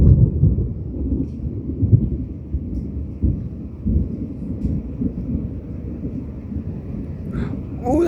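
Deep rolling thunder from a morning lightning storm rumbles continuously and fairly loud, with low booming surges and steady rain-like hiss, no talk.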